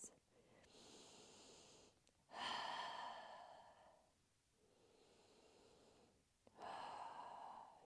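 Slow, deep yoga breaths, close and quiet: a long airy inhale, a softer exhale, then another full inhale, each drawn out over a couple of seconds with hushed pauses between.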